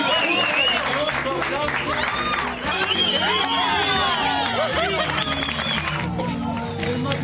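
A studio audience on the Spanish TV show Cásate conmigo applauds and cheers a married couple, steady loud clapping under lively crowd chatter and shouts.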